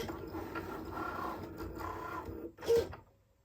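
A Cricut Maker cutting machine slicing a small heart-shaped fabric patch from coat scrap, a steady close mechanical whir and rolling drone that ends in a brief louder clunk as the carriage stops.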